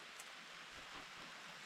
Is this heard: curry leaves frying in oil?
no